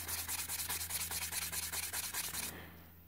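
Brake caliper piston from a Ford Courier front caliper being sanded by hand with wet and dry paper, a close, rapid back-and-forth rasping in a steady rhythm that stops abruptly near the end.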